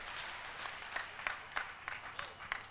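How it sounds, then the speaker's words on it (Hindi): An audience at a Hindi poetry gathering held for a guru's birth celebration claps for a poet. The applause is faint and distant, with scattered sharper claps standing out from a soft, even wash. "एक बार जोरदार तालियां मेवाड़ के कवि के लिए कर दे।"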